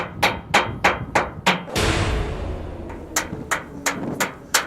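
A spanner used as a makeshift hammer strikes metal in a sharp, regular series of close, loud knocks. A brief rushing noise breaks in midway before the striking resumes.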